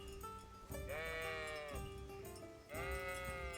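Sheep in the video game Kingdom Come: Deliverance bleat twice in long wavering calls, close and clear over faint background ambience.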